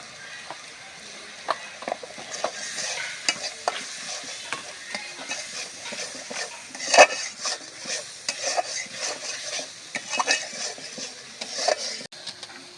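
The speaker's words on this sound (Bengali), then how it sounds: "পাঁচ মিনিট ভালো করে মশলাটা কষিয়ে নিতে হবে যাতে মশলায় কোনো কাঁচা গন্ধ না থাকে" Chicken gizzard and liver are stir-fried in spiced masala with dried chilli powder, a close sizzle broken by frequent scraping and clinking of a spatula against the pan, uneven bursts with one sharper clatter midway.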